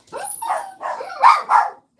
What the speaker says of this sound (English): Dogs barking for no apparent reason.